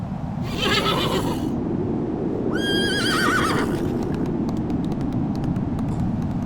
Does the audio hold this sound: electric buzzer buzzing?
no